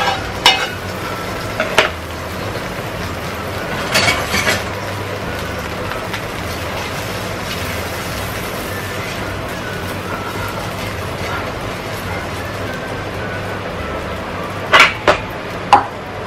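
Burger patties fry in ghee in a pan on a gas stove, giving a steady close sizzle throughout, with occasional clinks and scrapes of a utensil and a voice talking over it at times.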